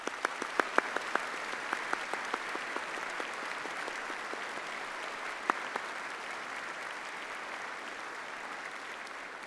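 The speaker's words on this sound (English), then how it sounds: "join me in thanking them with a huge round of applause." A graduation ceremony audience gives a sustained round of applause, a fairly distant, even wash of clapping with a few sharper individual claps standing out near the start.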